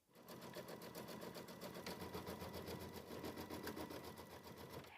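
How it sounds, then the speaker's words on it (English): An embroidery machine runs a tack-down stitch on a quilt block, a steady fast mechanical whirr with a rapid regular needle rhythm, close and continuous from start to finish with no talking. "I'll place this back into the machine, and with my foot down, I'm ready to do the tack down stitch for the second half."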